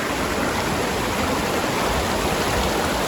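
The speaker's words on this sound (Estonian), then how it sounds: "Mõnus jõgi." Steady rush of a clear, very cold river flowing near ice caves, a continuous close broadband wash of water with no voices.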